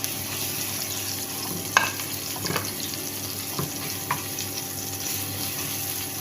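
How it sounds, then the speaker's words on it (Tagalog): Onion and garlic sautéing in a pan give a steady close sizzle, with a few sharp clinks and scrapes of a utensil stirring through it. "Saute lang natin ang ating onion hanggang mag-translucent. Sunod natin ang ating garlic."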